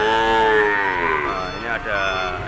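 Cattle at the Ambarketawang cattle market in Yogyakarta give a long, loud, close moo that sweeps and wavers, followed by a second shorter low bellow, with market noise faint underneath.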